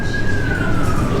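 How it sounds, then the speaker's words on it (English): A loud police car siren wail sweeps steadily downward in pitch, continuous over a rumbling road and engine background, with no voices. "The police siren,"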